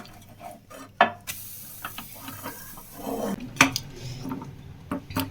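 A fluffy Dora cake being flipped in a pan, with a few sharp clinks and scrapes of the utensil against the pan, a brief bump, then quieter scraping around the sides, close by.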